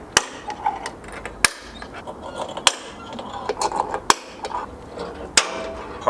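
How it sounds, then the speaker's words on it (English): A steel center punch strikes metal, marking drill points on a vehicle body for new Rock Slide Engineering steps: five sharp, close metallic taps about a second apart over faint background clatter. "So I went and got myself one of these center punches"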